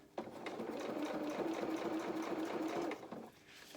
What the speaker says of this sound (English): I can just do a couple of stitches forward, a couple of stitches back, and then I'm following that line